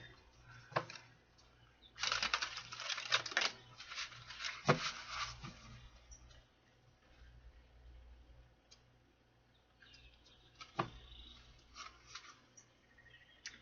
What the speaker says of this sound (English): All right, one more shuffle here.